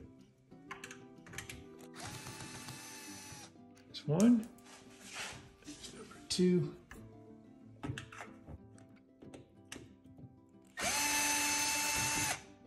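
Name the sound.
power drill removing Phillips head screws from washer dryer top panel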